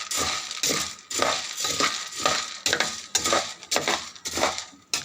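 Coffee beans roast in an old-style clay pan with a small hole, stirred steadily, giving repeated rhythmic scraping and rattling sweeps, loud and close, with no voices.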